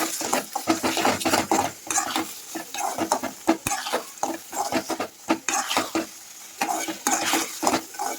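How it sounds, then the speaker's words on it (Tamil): Bread halwa with fried cashews and raisins is stirred in a ghee-laden pan, giving continuous close scraping and clinking of the spoon against metal over a soft sizzle, with no talking. "அதையும் ஆட் பண்ணி நல்லா கிளறி விடுங்க"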